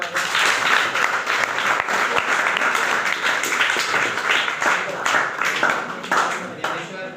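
Audience applause at a stage event honouring a devotional abhang performance, a steady dense wash of clapping held for several seconds before tapering slightly at the end.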